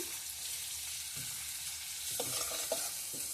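Coriander powder, cumin powder, garam masala and chilli powder are added to a pan, giving a soft, steady sizzle of frying spices with a few quiet stirring scrapes near the end.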